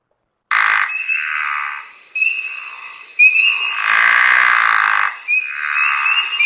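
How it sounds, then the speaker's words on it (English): A pickerel frog gives repeated low snoring croaks, each about a second long, in loud bursts, while a steady high whistling chorus of spring peepers runs behind. "I will play a pickerel frog for you"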